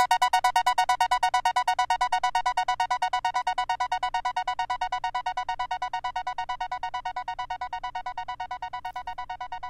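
Trance synthesizer pluck patch, a rapid, steady stream of short bright plucked notes repeating evenly for about ten seconds, gradually fading slightly, with no voices.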